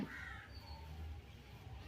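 A crow caws faintly from a distance, a short harsh call near the start followed by quieter calling, over soft background noise with no talking.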